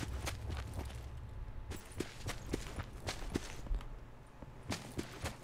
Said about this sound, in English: I think I hear footsteps